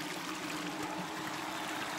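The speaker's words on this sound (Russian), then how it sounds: "Вот вода пошла" Water drains out of an automatic livestock drinker as it is cleaned, a steady, close trickling and gushing rush with no speech.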